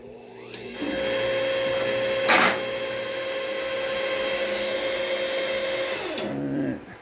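A car lift raises a 1996 Mustang in a home garage. A steady motor whine runs for about six seconds with a short clank near the start, then winds down and stops.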